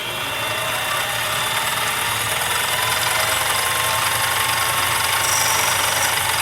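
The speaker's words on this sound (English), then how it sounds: "We'll take it over here to make the cuts on a fresh surface." A lathe turns a half-inch bar of 1018 steel against a carbide diamond insert, giving a steady, loud broadband hiss and whine with a low machine rumble underneath, unbroken for the whole stretch with no talk.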